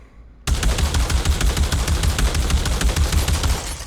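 A full-auto shotgun in the VR shooter Pavlov VR fires a rapid, loud, continuous burst of booming shots that starts abruptly and runs for several seconds without talk.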